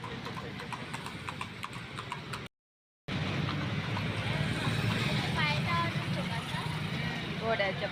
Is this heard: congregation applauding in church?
no